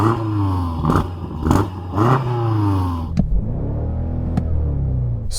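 A BMW M5 engine revs hard in three quick rising blips up to the soft limiter, loud and close, then settles back to a rough idle with a couple of sharp pops.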